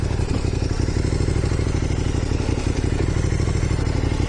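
Motorcycle engine running steadily, a loud close throbbing rumble with a rapid mechanical patter that holds constant throughout with no clear revving or voices.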